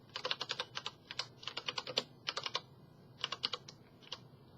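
Fingers tap quickly on a computer keyboard in short bursts of clicky keystrokes with brief pauses between, close and fairly quiet, no talking.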